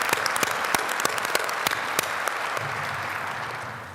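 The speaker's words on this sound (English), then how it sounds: "Let's give them a round of applause." An audience at a city's annual state of the city address breaks into steady, sustained applause, loud and dense with sharp individual claps standing out early before the clapping gradually thins toward the end.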